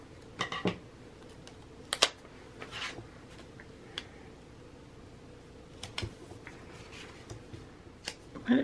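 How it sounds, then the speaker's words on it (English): A cardboard box is cut down by hand, giving sparse, quiet snips, crunches and rustles spread irregularly across a calm background. "I just cut this box down and stuck it on there"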